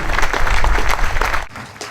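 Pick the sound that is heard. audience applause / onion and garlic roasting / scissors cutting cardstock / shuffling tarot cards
audience applause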